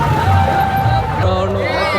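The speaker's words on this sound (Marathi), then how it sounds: "गर्दी आहे इकडं" Crowd of people packed into a phone shop during election time, a steady murmur of many voices and general bustle throughout, fairly loud and close, with a brief tonal beep or ring near the end.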